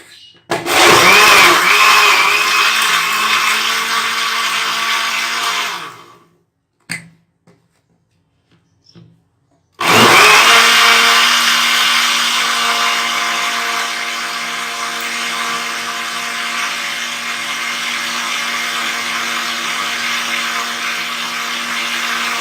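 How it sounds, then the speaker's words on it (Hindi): An electric blender whirs loudly as it purees peaches with cream into a thick shake, running hard for about six seconds, then a quiet gap with a few clicks, then another long steady blend. "हमने इसको इतना अच्छा सा ब्लेंड करना है कि बिल्कुल एक क्रीमी पेस्ट सा बन जाए"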